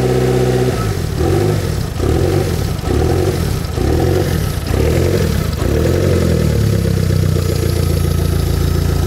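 A repaired car engine, air leak fixed and water temperature sensor reconnected, revs close up in a rhythmic series of throttle blips, then settles into a steady loud idle.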